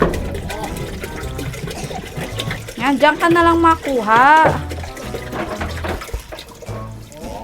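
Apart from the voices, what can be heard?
running water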